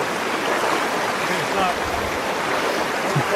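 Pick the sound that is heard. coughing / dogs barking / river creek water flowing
river creek water flowing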